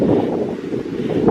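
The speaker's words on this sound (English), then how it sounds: "The wind is picking up." Wind gusting across a park hiking trail on a late-November morning, a steady, broad rushing roar that stays loud and close throughout with no voices.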